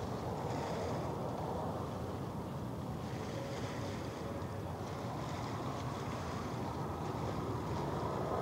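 Ship powering up offshore under steady wind and surf noise, a broad continuous low engine roar holding at constant level throughout, with no voices.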